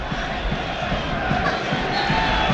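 Hartlepool United supporters at a National League football match against Gateshead roar and cheer in a dense, continuous crowd din as the opposing manager is booked, mixed with scattered shouting voices.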